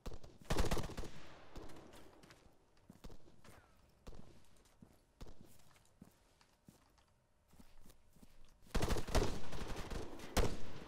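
Gunfire in ArmA 3 Alpha, with sharp, loud bursts of automatic fire near the start and again toward the end, and scattered distant single shots between them.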